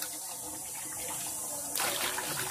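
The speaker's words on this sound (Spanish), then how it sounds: "vamos a enjuagar bien lo que viene siendo la carne" Tap water runs steadily while fresh, recently air-dried beef is rinsed, a soft continuous trickle that swells into a brighter, louder splashing gush near the end.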